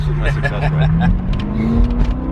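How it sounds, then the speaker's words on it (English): A BMW sports car hums steadily from inside the cabin while driving, its engine droning low and rising slightly in pitch, with people talking over it. "we're driving in Richard's BMW over here"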